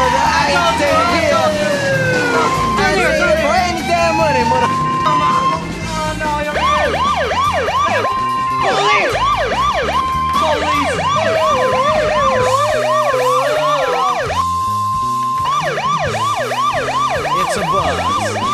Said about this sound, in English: Hey, it's a f***ing ambulance.